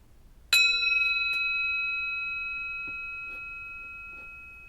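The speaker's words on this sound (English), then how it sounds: "I'm going to ring the bell." A single clear bell struck once, its pure ringing tone sustaining and slowly fading over several seconds in a quiet room.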